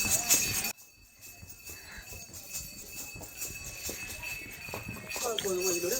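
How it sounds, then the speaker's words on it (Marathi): Horses walking along the horse path near Katra on the Vaishno Devi route, hooves clip-clopping in an uneven sequence of close taps, with voices and other background activity around them. "घोड्यांच्या रस्त्यामध्ये काहीच कोणच नसतं, फक्त घोडे"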